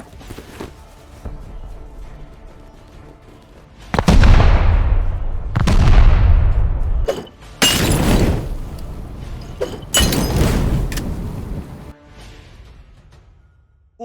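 Explosive charges blast through doors in the survival video game Rust, heard as several loud, close booms at irregular intervals, each with a long rumbling decay, mixed with sharp crackling bursts and no talking.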